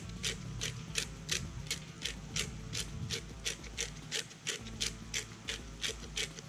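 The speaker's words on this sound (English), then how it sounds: "I'm going to add a little bit more pepper." A pepper mill grinds pepper in a steady rhythmic series of dry ratcheting crunches, about two per second, close and clear with no talk.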